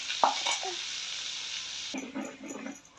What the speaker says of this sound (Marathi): एक काढलेलं वाटण पूर्ण असं त्याच तेलामध्ये असं फ्राय करून घ्यायचं